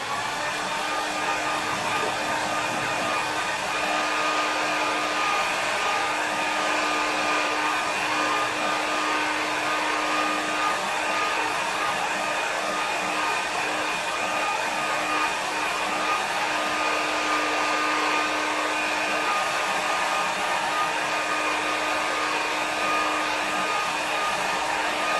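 A hair dryer blows on a watercolour painting, giving a constant, close, loud whirring rush with a steady hum that runs unbroken throughout.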